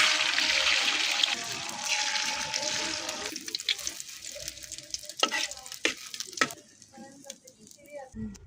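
Egg frying in hot oil in a pan for a potato, eggplant and tomato curry: a loud, steady sizzle that fades over time, broken by scattered clinks and scrapes from stirring.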